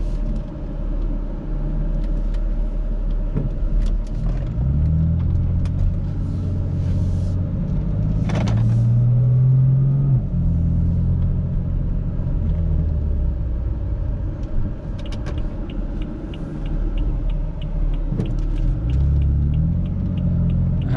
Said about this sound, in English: this is the first drive with the new spacers on, just to make sure everything is good and nothing's rubbing